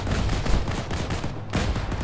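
An M240 machine gun fires in the military shooter ARMA while a defensive position is held. Rapid, dense bursts of gunfire sound loud and close, with a sharp report near the middle and no talk.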